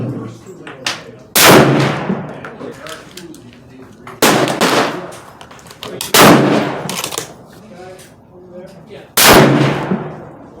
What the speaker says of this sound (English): Third shot.